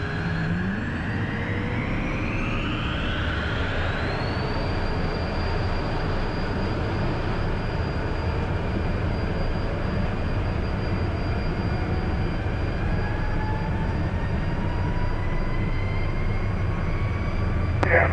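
A private jet takes off from runway 21: a loud, continuous engine roar with a turbine whine that climbs in pitch over the first few seconds, then holds steady as the roar carries on. No one talks.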